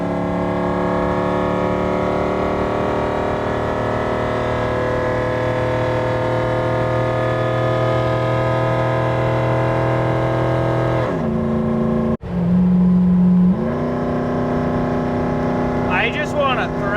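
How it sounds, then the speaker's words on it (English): V8-swapped Toyota Hilux engine roaring loudly through its intake, a steady harmonic drone that drops in pitch near the end, then holds briefly and rises again, with no talk over it. "The intake is so loud, so incredibly aggressive."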